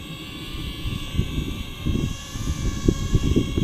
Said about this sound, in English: Throw the aircraft and it'll hover in place.